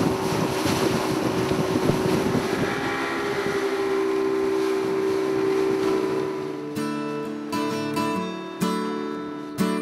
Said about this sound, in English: We're just waiting for the tender now, which is being lowered as we speak.